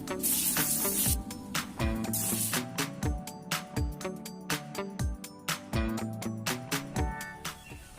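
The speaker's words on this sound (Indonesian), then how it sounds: "Oke, saya lanjutkan lagi ya penyemprotannya." Spray gun applying a budget BIM sanding sealer finish, a long hissing blast followed by a regular series of short, close spray bursts about every half second.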